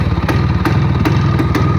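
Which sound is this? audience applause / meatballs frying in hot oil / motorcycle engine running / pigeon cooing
motorcycle engine running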